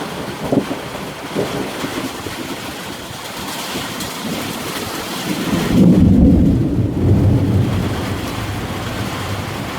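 A thunderstorm rolls in off the Gulf, with a long, deep rumble of thunder swelling midway over steady rain and wind noise, with no voices.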